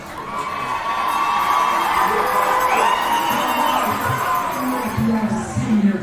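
Crowd at a high school homecoming varsity football game cheers and whoops steadily with shouting children, a loud, dense roar sustained throughout with a few voices rising near the end.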